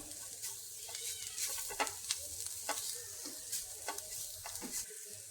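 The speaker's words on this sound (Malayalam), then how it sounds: "ഇനി ഇതെല്ലാം കൂടി നന്നായിട്ടൊന്ന് മിക്സ് ചെയ്യാം" Spice powders such as garam masala and coriander being stirred in a pan for a soybean dish, a quiet sizzle with soft, intermittent spoon scrapes, fairly faint and close.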